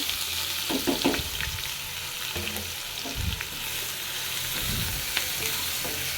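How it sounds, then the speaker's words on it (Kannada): Two chopped onions frying in hot oil in a pan, a steady close sizzle with a few soft stirring scrapes and clinks, no voices. "ಈಗ ಕಟ್ ಮಾಡಿಟ್ಟಿರೋ 2 ಈರುಳ್ಳಿನ ಹಾಕ್ತಾ ಇದ್ದೀನಿ"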